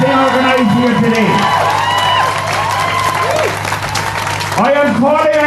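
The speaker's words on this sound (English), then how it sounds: "I want a big round of applause for Deputy Bree Smith" Crowd applause and cheering at an outdoor climate action protest in Ireland, a sustained loud wash of clapping mixed with voices, swelling again near the end.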